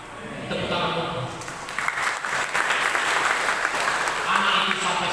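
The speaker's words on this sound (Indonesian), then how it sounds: "Tepuk tangan untuk" Church congregation applauding during a Christmas sermon, steady sustained clapping with crowd noise throughout, swelling slightly louder toward the end.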